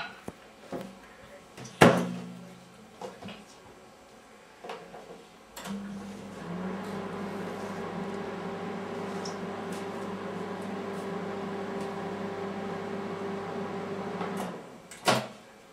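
A steady low electrical hum from a running microwave oven heating white soap base, with a droning tone for several seconds after a door clunk, ending with another click and thump.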